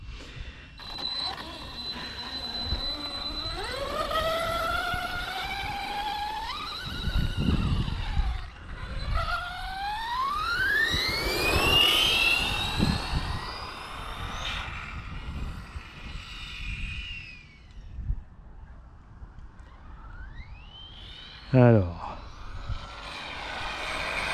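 A Yikong DF7 RC car runs across a meadow on its first outing, its electric motor whining and rising and falling in pitch as it speeds up and slows, with a sharp sweeping squeal near the end.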